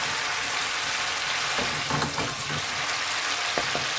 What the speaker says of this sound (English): sizzle that off